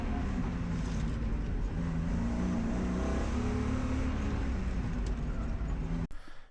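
A car pulls hard through an autocross course of cones, its engine droning and rising in pitch at moderate volume with steady wind and road noise, ending in an abrupt bump.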